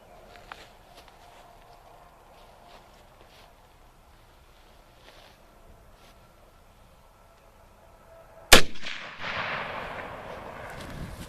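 A Lee Enfield SMLE No1 Mk 3 rifle fires one sharp, loud shot outdoors after a quiet lead-in, followed by a long rolling echo.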